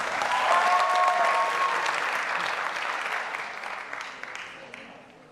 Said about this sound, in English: Let's make a super huge applause to